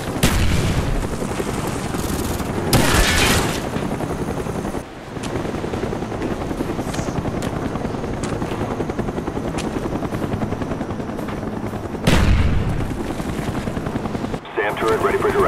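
An enemy Cobra attack helicopter in Call of Duty Black Ops multiplayer makes a continuous rotor drone, broken by sharp booms and bursts of gunfire, with voices heard partway through.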